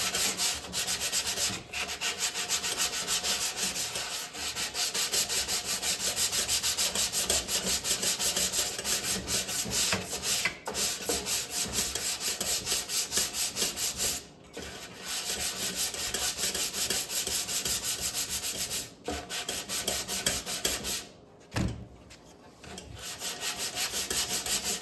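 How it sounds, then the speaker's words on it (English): Body filler on the front end of a 1952 Ford F1 pickup is hand-sanded with 220-grit paper on a block, a steady, close rasping scrub of rapid strokes broken by a few brief pauses. "This stuff sands down super easy. I got some 220 grit"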